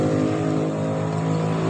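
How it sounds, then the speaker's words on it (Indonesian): A Honda Beat Pop scooter engine idling with a broken CVT roller housing, a loud steady close-up drone with a rough, rapidly repeating knock running through it, no talk. "akan mengakibatkan suara kelotok-kelotok ketika motor dalam keadaan stasioner atau saat motor mau digeber"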